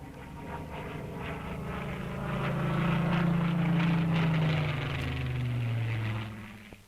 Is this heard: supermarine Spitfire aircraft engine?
yes